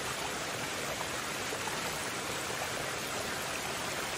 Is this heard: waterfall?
yes